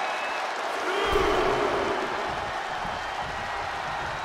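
Arena crowd noise in the WWE 2K24 wrestling game during a Batista versus Triple H match, a steady broad roar of cheering that swells slightly early on and holds throughout.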